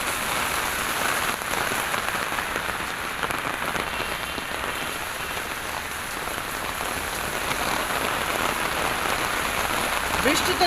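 Steady rain falling on surfaces outdoors, a dense continuous hiss and patter that stays even and fairly close for the whole stretch, with no clear talk over it.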